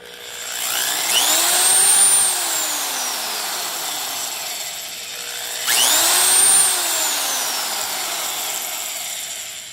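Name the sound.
DeWalt DW130V heavy duty drill running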